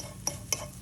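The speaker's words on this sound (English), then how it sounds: "scramble them, break them up, get them going" Eggs scrambled in a pan for a sausage, eggs and grits breakfast, with two quick utensil scrapes against the pan over a faint sizzle.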